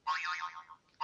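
The iPhone 'Boing' ringtone plays a springy, wobbling tone that bounces and fades over about a second, with the next boing starting right after, clear and alone.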